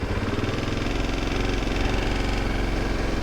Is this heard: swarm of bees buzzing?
no